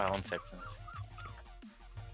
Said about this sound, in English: There's some seagulls in the background.